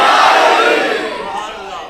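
A large crowd at a religious sermon gathering roars a chanted slogan in unison, a loud, sustained mass of voices that slowly fades over about two seconds.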